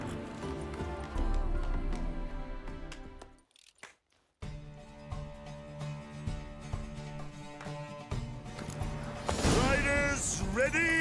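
Rapid hoofbeats of galloping horses in a race in The Witcher 3: Wild Hunt, under music and game sounds, with a brief silent gap and a burst of crowd-like noise near the end.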